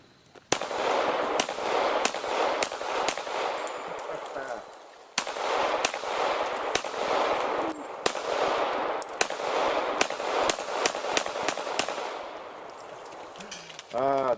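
A gun fires rapid bursts at pumpkin targets, sharp loud cracks in quick strings with a short pause midway, echoing outdoors; a voice speaks briefly near the end.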